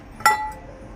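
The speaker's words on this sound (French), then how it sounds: "je vais poser le couvercle à côté pour vous montrer le prix" Lid of a large bottle-shaped vase set down with a single sharp ceramic clink that rings briefly and then fades, close and alone, with no talk.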